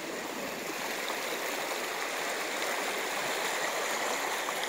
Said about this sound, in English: So I'm entering the creek now.